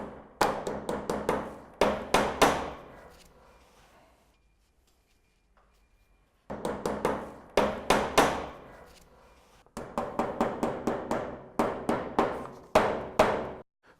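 Hammer driving tacks through corrugated plastic eaves ventilation on a roof, close sharp taps in quick bursts of rapid strikes, a pause of a few seconds, then two more runs of blows.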